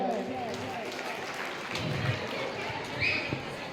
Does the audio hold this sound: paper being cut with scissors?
no